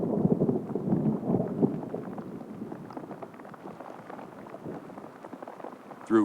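Rain falls steadily on prairie grassland, a dense close patter that starts loudest and eases slightly, with a brief sharp burst at the very end.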